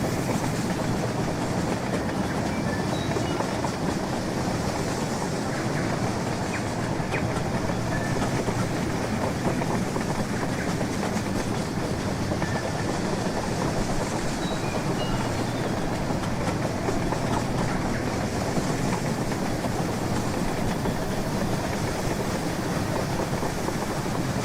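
A model train locomotive with a double tender rolls along in the Rolling Line video game, giving a steady, continuous rumble and clatter of wheels on track with no talking.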